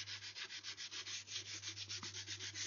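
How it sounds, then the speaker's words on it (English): Sandpaper rubbed over a screw on the nose cap of a swivel breech rifle kit where the wood meets the metal, a rhythmic back-and-forth scratching of even strokes, close and quiet, with no voices. "You want to sand this screw right out onto the nose cap"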